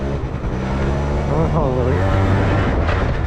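A two-stroke moped engine runs loud and close, a steady buzzing drone that rises in pitch partway through as it revs.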